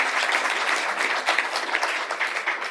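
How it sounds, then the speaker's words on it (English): Audience applause at a Yakima School District board meeting honoring the girls wrestling all-league team, a short steady patter of many hands clapping with no voices over it. "How about an applause for the girls wrestling all league?"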